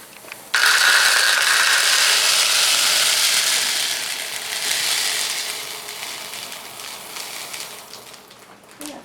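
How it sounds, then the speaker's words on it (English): Dry popcorn pours into a canister in a continuous rattling rush that lasts several seconds, then thins into scattered trickles, close and fairly loud. "Fill the canister with popcorn so that it is about 3/4 full."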